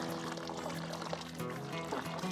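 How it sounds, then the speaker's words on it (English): Newly planted David Austin climbing rose in a container getting a deep watering, with a steady pour of water splashing into soil, moderately close and continuous, no talk. "Give a good deep watering"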